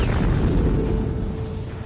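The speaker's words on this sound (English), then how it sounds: "it's a bad idea to be too close when a dying star explodes" Supernova explosion effect: a deep, booming roar that starts loud and full, then rolls on as a dense rumble and slowly fades over about two seconds.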